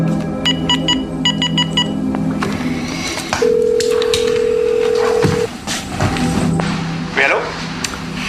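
A telephone is dialed: rapid clusters of touch-tone beeps, then a steady ringing tone, with a voice speaking over parts of it.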